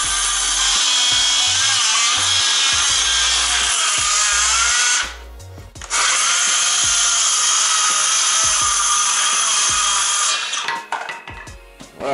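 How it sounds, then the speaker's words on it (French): A Skil 20V cordless circular saw rips through a pine board with a loud, steady high-pitched whine. It cuts for about five seconds, stops briefly, then makes a second long cut that ends in clatter. "je suis sûr qu'elle aura déjà beaucoup plus facile à couper cette planche-ci."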